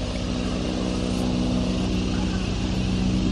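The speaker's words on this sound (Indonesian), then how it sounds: "Oh, helikopter." Helicopter flying nearby over a city, a steady loud droning engine and rotor hum that holds constant throughout, with faint talk mixed in.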